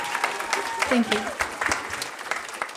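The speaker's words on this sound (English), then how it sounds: "Can we also give a round of applause" Steady clapping from the audience at a Moreno Valley school district board meeting honoring a student volleyball leader, a dense patter throughout with a voice speaking briefly over it.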